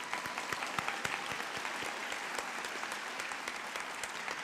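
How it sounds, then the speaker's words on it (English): Sustained audience applause at a university Founder's Day ceremony, a steady dense patter of many hands filling the room at moderate level, alone without talk. "Please give them a round of applause."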